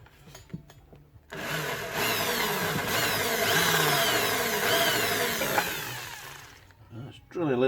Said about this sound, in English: It's drilling a little bit